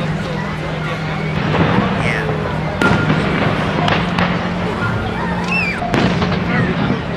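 Fireworks bursting at intervals over Niagara Falls, with sharp cracks standing out over a steady low rumble and crowd murmur in the background.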